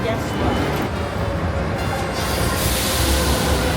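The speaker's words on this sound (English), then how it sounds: "taking the metro is probably the easiest" A metro train in Rome during a Saturday rush hour, a loud steady rumble and hiss of the carriage in motion, with voices of people talking over the noise.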